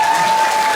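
Steady, dense applause fills a hall at a Balinese drama gong performance by Pusaka Aji Pingit, representing Klungkung regency at the Bali Arts Festival, with a faint held tone running underneath.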